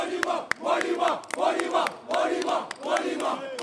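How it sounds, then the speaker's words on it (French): A live crowd at a hip-hop show applauds and cheers, with steady clapping and shouting, close and loud and without a break. "Les gars, des applaudissements pour Monument, Sylvain."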